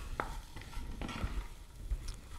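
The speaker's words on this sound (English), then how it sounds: "With stir frying, you always want to just keep the food moving so that it's constantly cooking evenly" Onions, garlic and ginger are stir-fried in a pan, and the scrape and clack of a utensil come as a few quick, quiet strokes over a soft sizzle.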